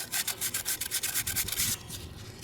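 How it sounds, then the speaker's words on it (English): Fine 2000-grit sandpaper rubs rust off a metal floor jack in quick, rhythmic back-and-forth strokes, close and moderately loud, then slowing to a softer scrape. "Using a 2000 sandpaper so that it won't cause any major scratching."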